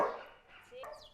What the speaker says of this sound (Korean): 진돗개가 3번 짖습니다